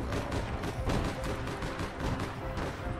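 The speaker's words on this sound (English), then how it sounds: "Oh, that's a sniper." Rapid gunfire in the online shooter APB: Reloaded, a dense continuous barrage of loud shots crackling over a busy game soundscape for several seconds, with a sniper engaged nearby.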